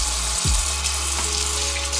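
Tap water runs steadily into a kitchen sink while a trout is cleaned, a constant close rush of flow with a brief low thump near the start and no talking.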